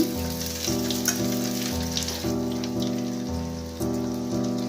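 Chopped garlic, green chilli and ginger frying in hot oil with mustard seeds for radish leaf sabzi, a dense, steady crackling sizzle that pops and spits continuously, close and fairly loud over a faint background hum.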